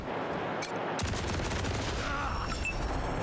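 Gunshots in the Wasteland 3 video game, a rapid burst of fire that starts abruptly and carries on as a dense rattling volley, with little or no talk.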